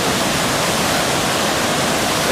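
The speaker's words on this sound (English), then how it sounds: "This is POW, Professional Whitewater. Probably one of the biggest holes" Whitewater roaring through one of the biggest holes on a high-water river, a dense, steady rushing wash that stays loud and unbroken throughout with no voices.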